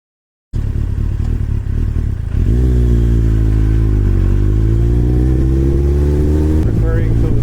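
A Yamaha XJR1300 cafe racer motorcycle starts abruptly and then its engine pulls hard in a loud, close, steadily rising drone as the bike gets up to speed, with a brief rise in pitch just before the end.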